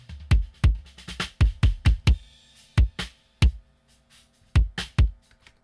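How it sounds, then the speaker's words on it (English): Two close-miked kick drum tracks sound together as deep, punchy thumps in an uneven groove pattern, about a dozen hits with short gaps, with faint cymbal bleed between them and no voices. "So I have two different kick drum tracks here"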